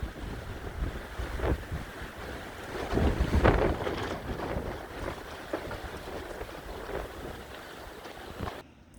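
Wind buffets a microphone in a steady roar, swelling into stronger gusts, with a wash like water in the background.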